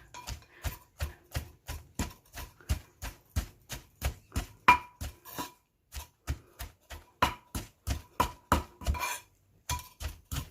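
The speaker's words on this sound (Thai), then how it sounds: "หลังจากนั้นก็โขลกให้เข้ากันนะคะ" Chili paste ingredients for a salted-fish nam prik are pounded in a mortar, giving steady rhythmic thuds about three per second, close and clear, with a brief pause near the end and no talking.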